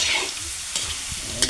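Cooking oil sizzles steadily as food is stir-fried in a pan, with a few sharp scraping stirs of the utensil breaking through the continuous hiss.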